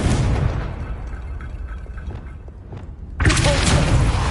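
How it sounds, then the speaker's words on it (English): Confringo spell blasts in Hogwarts Legacy on PS5, a deep booming explosion swelling and rumbling, then a second loud burst of noise near the end. "Confringo."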